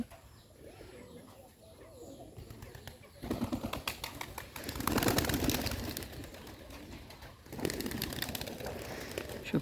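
Green-necked Bombay pigeons coo in low, repeated throaty murmurs that swell and fade, with rustling and bursts of fluttering noise around them.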